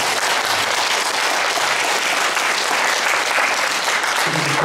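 Steady, sustained applause from a large crowd at a county community charity event, dense and even throughout with no pauses.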